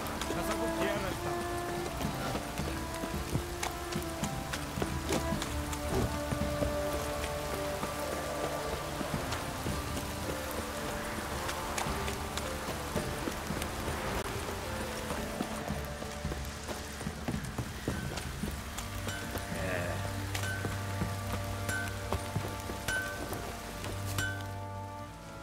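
Steady rain pattering on surfaces in The Witcher 3: Wild Hunt, a continuous soft hiss of drops under game music, horse hooves and voices talking in the foreground.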